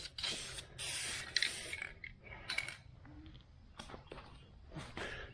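Spray paint hissing onto an engine part from a 1976 Chevrolet El Camino, several short close bursts of aerosol with pauses between them, alone without talk.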